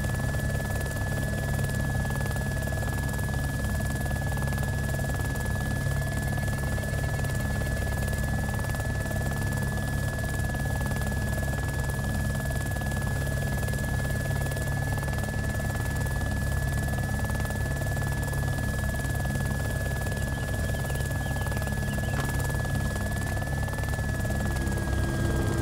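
Steady, loud helicopter rotor drone with a constant whine as a helicopter lands in the video game DayZ: Origins, continuing unchanged for a long stretch.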